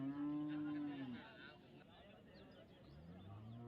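A one-year-old Jersey heifer calf at a cattle sale gives a long, loud moo, then a second lower moo begins near the end amid faint background noise.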